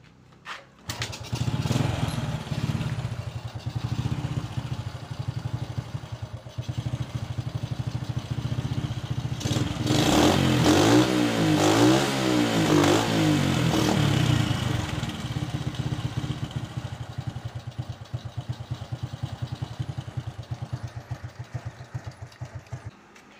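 A 1997 Honda Supra motorcycle engine starts and runs, a steady close putter of idling with a burst of revving mid-clip before settling back to a rhythmic idle.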